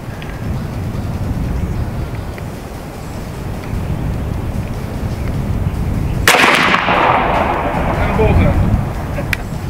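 An AEA Zeus .72 caliber big-bore air rifle fires once at a 50-yard target outdoors. The single sharp, loud report trails into a rushing tail over steady wind and low background rumble.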